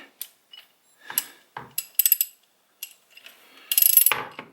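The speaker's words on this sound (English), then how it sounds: "I'm just going to use my wrench and just give it an extra little snug" A wrench gives an extra snug to the oil filter on a 2017 Yamaha Grizzly 700 ATV: scattered short clicks and metallic ratcheting taps, close and fairly quiet, with a louder rasping burst near the end.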